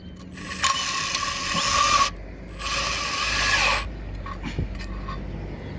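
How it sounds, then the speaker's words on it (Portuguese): A power screwdriver drives a screw to tighten a fixing bracket for Roman roof tiles, with two sustained whirring runs close by, separated by a short pause and followed by faint handling clicks. "aperta com a parafusadeira"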